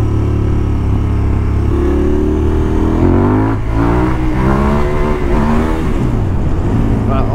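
A KTM 1290 Adventure S motorcycle engine revs hard as it shifts up through the gears, loud and close, with the pitch rising and falling at each change and a voice talking underneath.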